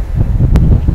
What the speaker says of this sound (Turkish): Aslında ara ara rüzgar olsa da